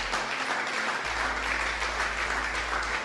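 A church congregation applauds during a Spanish-language sermon, with steady, dense clapping from a crowd that holds at an even level for the whole stretch and has no talk over it.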